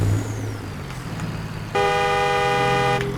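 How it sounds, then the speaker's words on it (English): A truck horn in Farming Simulator 22 blares steadily for about a second and a half, loud and up close, over a low engine rumble. "The horn actually sounds a little bit different"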